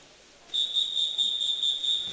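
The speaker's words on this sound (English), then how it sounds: "The whistle goes." At a swim meet, one sustained, piercing whistle blast starts suddenly and holds steady for well over a second, loud above a quiet pool hall.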